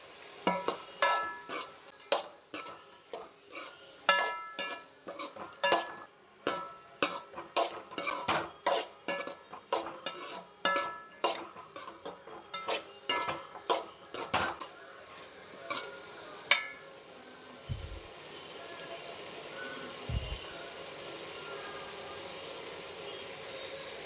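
Vegetables sautéing in oil in a pan, stirred with a utensil that scrapes and clinks repeatedly against the metal in a steady rhythm over a low background hiss, the clatter fading out near the end.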